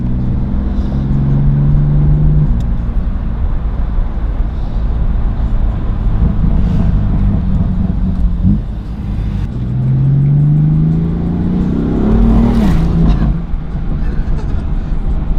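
A Racechip-tuned BMW M4 accelerates hard on a street, its engine revving and rising through gears with loud, close drone heard from inside the car.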